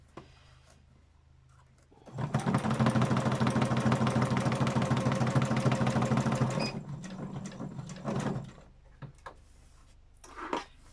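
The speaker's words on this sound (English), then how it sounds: "It's actually stitching it a lot quieter than it did when I was free motioning" Sewing machine stitches a pouch in one long, steady, fairly loud run of rapid mechanical chatter, then slows with a brief final burst and a few scattered clicks before and after.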